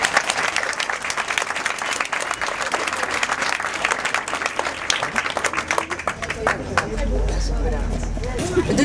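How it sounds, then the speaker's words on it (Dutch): A crowd at an outdoor anti-racism demonstration in Boxtel applauds in a dense, sustained burst of clapping with cheers and murmuring throughout, swelling slightly toward the end. "Een applaus voor jullie."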